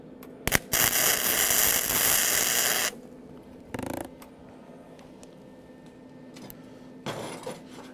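Tack welding two plates with self-shielded flux-cored wire: a brief spatter burst, then a loud two-second crackling arc, followed by shorter bursts of arc noise between quiet pauses.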